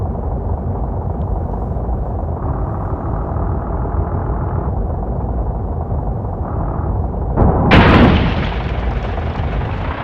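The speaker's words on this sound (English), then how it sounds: "Ooh, the wing's on fire. What if I crash into it?" A turboprop aircraft in a flight simulator game crashes with a sudden loud boom near the end, following a steady rumbling engine and fire roar, with no voices.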